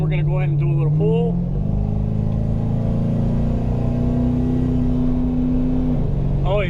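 A catless Ford Crown Victoria accelerates hard, its engine note droning loud and rising steadily in pitch, with a voice heard briefly at the start and end.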